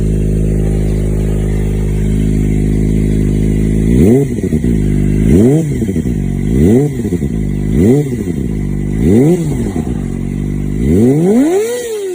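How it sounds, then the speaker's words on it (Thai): A Kawasaki ZX25R fitted with an Akrapovic 2-inch slip-on exhaust idles with a smooth, steady note, then gives about six sharp throttle blips that rise and fall in a regular rhythm, loud and close. "เสียงเดินเบานุ่มๆ นะครับ ตามสไตล์ท่ออาคานะครับเสียงนุ่ม"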